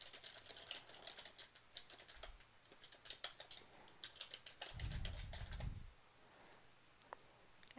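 Close, quiet clicking of a computer keyboard as email addresses are typed, irregular quick keystrokes in short runs, with a brief low rumble partway through and no speech.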